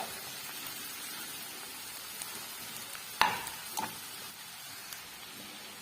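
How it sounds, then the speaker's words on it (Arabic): Shredded cabbage fries in butter and oil while it is stirred in the pan, a soft continuous sizzle with a sharp utensil knock partway through and a smaller clatter shortly after, no voices. "هنا البنات نبداو نحركوا فيه الكرنب تاعنا حتى يتخلط كامل بالزبده والزيت"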